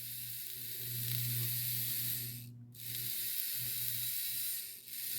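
An electric motor in a model Dreyfuss Hudson locomotive with a Niagara tender runs with a steady low hum and a broad hiss, briefly dropping out once partway through before carrying on.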